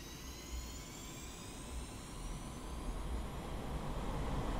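A Sukhoi Su-25T jet's engines spool up for takeoff on the runway in the DCS flight simulator game, a steady roar with a rising whine that grows gradually louder.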